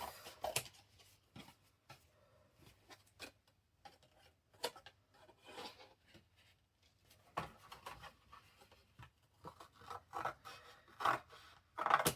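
Scissors snip through paper or card for a tissue box folio craft, a run of short, sharp cuts and scrapes that come irregularly, close and fairly quiet, with a cluster of louder snips near the end.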